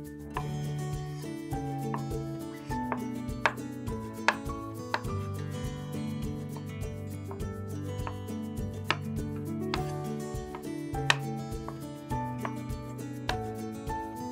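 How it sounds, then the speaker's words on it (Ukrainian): A knife dices boiled eggs into small cubes with a run of crisp, close board taps at an uneven pace, under steady background music. "Нарежьте вареные яйца небольшими кубиками."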